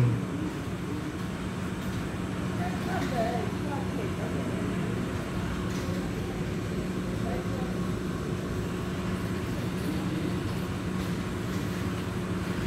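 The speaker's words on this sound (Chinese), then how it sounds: "有列车进站" An EMU electric train pulls into Keelung station with a steady, close rumble of wheels and motors that holds evenly throughout.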